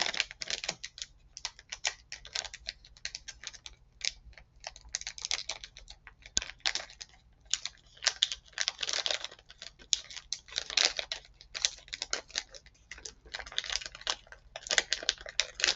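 Someone opens the plastic packaging of shrimp flower senbei rice crackers, making close, dense, irregular crinkling and crackling clicks that continue throughout with no talk.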